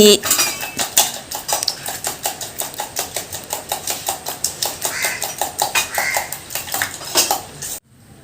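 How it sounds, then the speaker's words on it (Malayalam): Eggs are beaten in a bowl with cutlery for a homestyle dish: a fast, steady run of sharp metallic clinks and taps close up, roughly three per second, stopping abruptly near the end. "ഇതാണ് മുട്ടയിടി"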